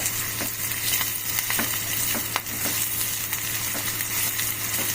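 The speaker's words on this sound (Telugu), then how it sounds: "ఇట్లా మంచిగా ఫ్రై చేసుకోవాలండి" Onion, green chillies and curry leaves fry on a low flame in a pan for pesarattu upma, a dense steady sizzle close by with rhythmic stirring scrapes and light ladle taps throughout.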